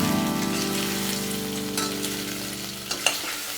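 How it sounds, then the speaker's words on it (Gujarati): Ginger chilli paste and boiled potatoes fry in a pan, a dense, even sizzle under a low steady hum, ending with a couple of brief knocks of a utensil. "હવે તેમાં આદુ મરચાંની પેસ્ટ 1 ટીસ્પૂન એડ કરીશું।"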